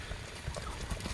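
Hooves of a large Kyrgyz stud horse clip-clop in a steady broadband clatter, with faint low thuds at irregular steps, fairly quiet and alone without talk.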